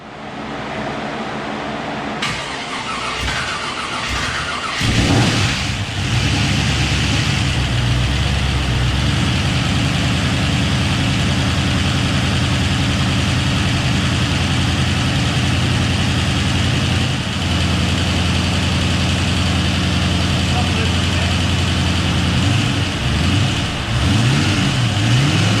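A repaired car engine is cranked and fires up a few seconds in, then settles into a loud, steady idle with a whirring fan, heard close and alone.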